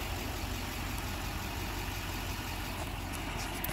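A Chevy diesel pickup truck idles steadily, a low, even engine rumble that holds constant and close without any revving or voices.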